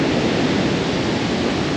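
Stormy Black Sea surf crashing on a damaged shore, a dense, steady roar of breaking waves that fills the whole stretch evenly with no voices.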